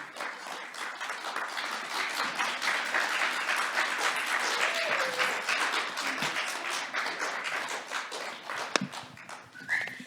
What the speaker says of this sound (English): Let's have one more round of applause for the newest play in the world